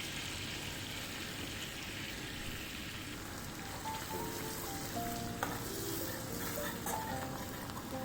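Garlic frying in hot oil for pav bhaji, a dense, steady crackling sizzle that holds evenly throughout with no voices.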